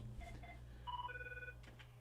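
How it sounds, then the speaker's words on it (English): A telephone rings on a comedy radio show in short electronic trill tones, faint behind a steady hum, with no talk during the rings. "Oh, phone's ringing again."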